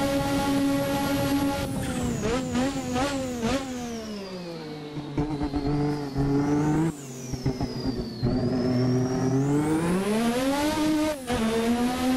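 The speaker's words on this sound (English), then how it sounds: "Power down, turbo spooled up, there we go." A race car engine in a racing video game revs loudly and continuously, pitch sweeping up and down through gear changes with turbo whine spooling up, close and steady with no talking.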